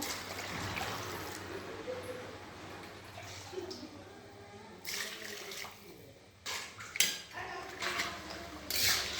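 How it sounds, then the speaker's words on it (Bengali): Water poured into a pot of cooking potatoes, splashing and clinking against metal cookware with scattered knocks and rattles, close and moderately loud. "জল দিয়ে দিচ্ছি"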